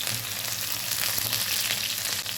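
Masala-coated chicken leg pieces fry in a little oil over medium gas, a dense, loud, continuous crackling sizzle close by with no speech.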